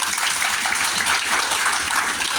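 Steady, dense clapping from an audience at a gathering, filling the whole short stretch at an even, fairly loud level with no pauses.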